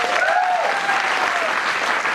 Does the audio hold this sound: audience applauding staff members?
yes